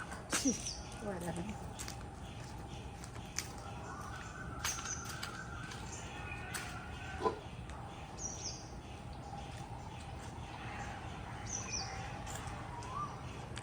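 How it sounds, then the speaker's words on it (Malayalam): An Asian koel calls from trees around a home garden, clear repeated whistled notes at moderate distance over faint outdoor background and occasional low voices. "കുയിൽ കിടന്ന് തകർക്കുന്നുണ്ട്"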